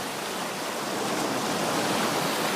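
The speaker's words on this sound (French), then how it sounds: "j'ai choisi cet endroit avec une petite plage de sable, quelques vagues qui arrivent" Small waves wash onto a little sandy beach in a continuous soft, broadband rush of water, steady and moderately close, with no voices.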